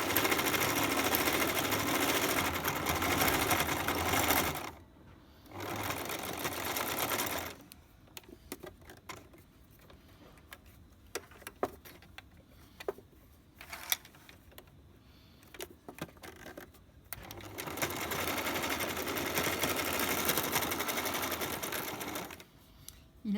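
A sewing machine stitches a washable cotton face mask, running in loud sustained bursts at the start and end with quieter stops and short stitch runs in between.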